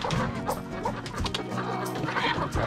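A hen clucks continuously and close by, in a busy run of throaty clucks and squawks among other chickens, with no one speaking.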